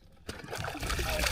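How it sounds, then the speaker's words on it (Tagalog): Water poured into a container outdoors, a short burst of splashing that settles into a continuous trickling pour, fairly close and moderately loud. "Lagyan natin ng tubig para fresh."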